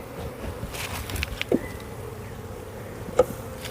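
Honey bees buzz continuously around an opened hive during honey harvesting, a soft, close drone with a few faint knocks.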